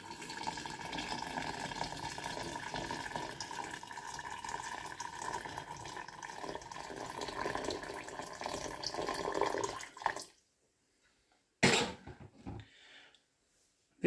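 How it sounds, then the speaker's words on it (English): Hot water runs from a tap into a jar of potatoes, a steady, close filling rush for about ten seconds that stops abruptly, followed by a brief clunk and faint trickling afterward. "Fill the jar up with hot water."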